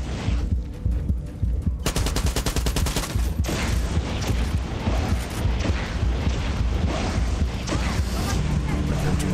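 Rapid bursts of assault rifle fire in the Far Cry 6 video game, dense and loud over a continuous rumbling game soundtrack, with a sharp volley standing out early on.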